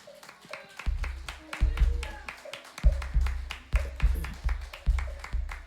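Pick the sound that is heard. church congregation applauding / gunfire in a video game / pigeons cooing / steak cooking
church congregation applauding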